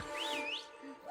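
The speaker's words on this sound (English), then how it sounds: "I like when it whistles to pull the chain up." A faint, high, gliding whistle rises and falls once in a Krampus film scene as a chain is pulled up, over a soft hiss, with a lower tonal line beneath.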